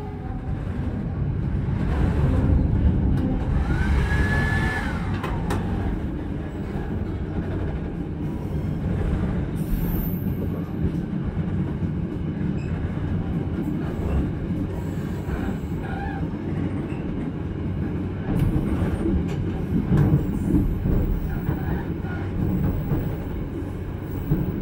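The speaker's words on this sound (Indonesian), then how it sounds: "ini ada kereta api Wijaya Kusuma dari Cilacap tujuan Banyuwangi" The Wijaya Kusuma passenger train from Cilacap to Banyuwangi passes close by, a loud continuous rumble of wheels and wagons with a brief high squeal early on and steady clatter throughout.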